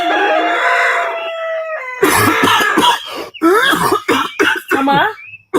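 A person coughs in a burst of harsh, repeated hacks after a brief stretch of sung or spoken voice, with several coughs in uneven rhythm, close and loud.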